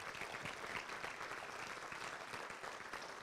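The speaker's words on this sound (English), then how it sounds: "Let's give one more thank you round of applause to our panelists and to Dr. Noor." Audience applause at a community panel on public education, a steady dense wash of many hands clapping at moderate level, continuous through the short stretch with no voices on top.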